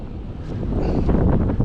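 Strong rushing wind buffets the microphone while cycling on open roads in the Pennines, a loud continuous roar with no voices.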